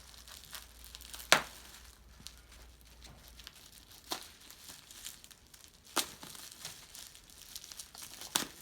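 Quail egg packaging is cut open with a knife, soft crinkling and tearing of wrapping in close, quiet bursts, with a few sharper rips standing out against a hushed room.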